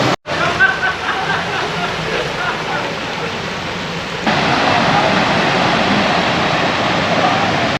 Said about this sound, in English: So here's the biggest hot spring.